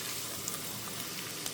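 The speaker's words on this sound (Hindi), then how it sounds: "अब हम इसमें लहसुन, कुटा हुआ लहसुन डालेंगे और ज़्यादा आपने इसको कलर नहीं देना, बस हल्का सा सौटे करना है।" Crushed garlic sautéing with onions in a pan for Lahori chole, a steady soft sizzle and crackle running throughout without any talk.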